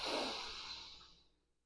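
One long, breathy exhalation during a deep breathing exercise, close and soft, starting strong and tapering away to silence over under two seconds.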